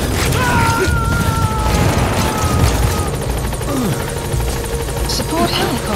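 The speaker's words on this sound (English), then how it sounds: "Support helicopter has arrived." A support helicopter in a video game thrums with a loud, steady rotor chop and engine hum, heard close and continuous while radio-style voices speak over it.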